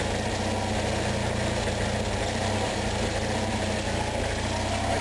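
An Onan engine idles during carburetor adjustment, a steady low, close mechanical rumble with a faint rise and fall in speed, running continuously without talk.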